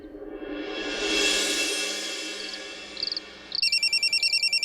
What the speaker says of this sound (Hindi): जरा देख तो, फोन आ रहा है।